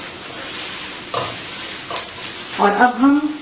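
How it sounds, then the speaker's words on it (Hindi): Eggs frying in a little hot oil as fried rice is cooked, a soft steady sizzle with a few louder scraping stirs toward the end and no talking. "थोड़ा सा ऑयल गरम करके और उसके अंदर हम अंडे भून लेंगे"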